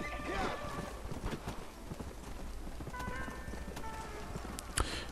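Horse hooves clip-clop steadily while riding through open country in Red Dead Redemption Undead Nightmare, faint and rhythmic beneath someone talking.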